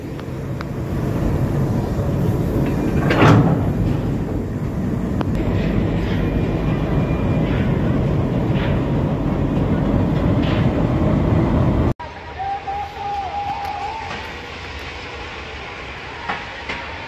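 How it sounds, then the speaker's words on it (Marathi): A train drops ballast gravel along a railway track near Navgan Rajuri, Beed, with a loud, continuous rumbling roar that cuts off abruptly and gives way to a quieter, uneven mechanical rumble. "अशी खडी टाकत टाकत चालली आहे."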